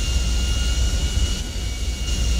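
An airplane roars during takeoff in GTA Online, a loud, steady jet-engine drone with a high whine running through it, close and continuous with no talking.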